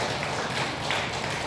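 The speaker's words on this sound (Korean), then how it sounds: "우리 다시 한번 박수로 영광 돌리겠습니다" A church congregation claps together in a dense, continuous round of applause that fills the hall, steady and fairly loud, with no voices over it.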